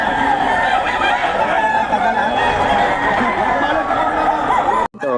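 Chickens for sale cluck and crow loudly and continuously at close range, with a rooster among them and a brief break just before the end.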